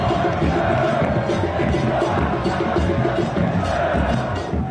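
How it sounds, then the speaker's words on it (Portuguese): Dense crowd roar of angry Santos football supporters inside a stadium after their side concedes a third goal to São Bernardo in the Paulista championship, a continuous loud wash of many voices with shouts rising through it. "a torcida ficou brava logo após o 3º gol do São Bernardo"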